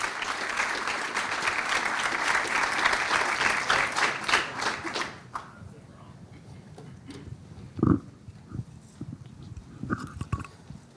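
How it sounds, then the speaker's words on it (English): Audience applause at a business community conversation on homelessness in Escambia County, greeting presenters returning to the stage. A dense, steady crowd clapping for about five seconds, then it tapers to scattered claps and small thumps. "a round of applause for our presenters as they come back on stage and take a seat"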